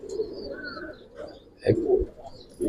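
Pigeons coo in soft, low, throaty bursts, a few separate calls close by with faint higher chirps in the background.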